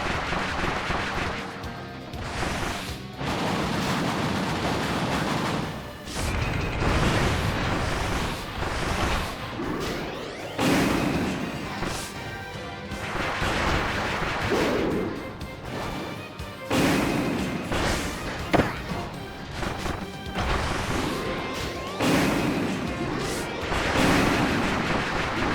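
A boss firing a giant cannon in Kirby's Return to Dreamland Deluxe, with loud repeated blasts and crashing booms in bursts, mixed with game music and effects throughout.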